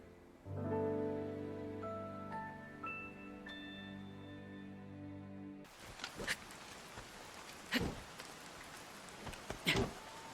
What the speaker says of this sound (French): La pluie n'a pas l'air de vouloir s'arrêter.